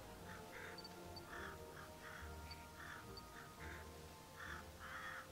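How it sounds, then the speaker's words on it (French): Murkrow, the crow-like Pokémon in New Pokémon Snap, caws repeatedly in short harsh bursts over a steady game ambience. The calls come in an uneven rhythm and are fairly clear, with no talking over them. "C'est des cornerbres ça."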